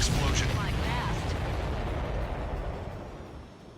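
A missile explosion rumbles in Ace Combat 7 Skies Unknown, a loud, deep blast that starts at full force and slowly rolls off and fades over a few seconds.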